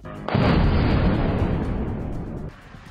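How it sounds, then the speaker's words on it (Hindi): A heavy explosive roar of an anti-aircraft missile destroying a drone bursts in and sustains a broad rumbling blast for a couple of seconds before cutting off, loud and without voices. "वीडियो में धमाके के बाद ड्रोन आग का गोला बनता दिखा"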